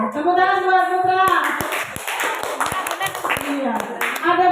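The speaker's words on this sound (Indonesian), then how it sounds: "Tepuk tangan buat Putra." Children in a classroom clap together for a classmate, a dense burst of hand claps rising after a spoken prompt and continuing for several seconds, with a teacher's voice and children's voices over and between the clapping.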